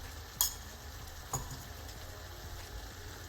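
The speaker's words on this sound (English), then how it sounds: "Give that a stir." Chicken enchilada filling with chili is stirred in a pan: a quiet, steady sizzle, broken by a couple of sharp utensil clicks against the pan.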